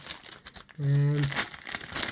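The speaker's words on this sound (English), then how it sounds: "Funny feel to the package as well, this one does feel a bit papery, you can hear it rustling a bit oddly." A papery package of Cadbury Dairy Milk Mint Buttons rustles and crinkles close by, with a brief tonal scrape in the middle and a person talking over it.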